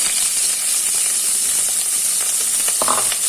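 Onions and green chillies sizzle steadily in hot oil for a mutton curry, a continuous close hiss with a few faint clinks near the end.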